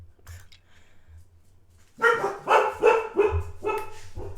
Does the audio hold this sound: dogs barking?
yes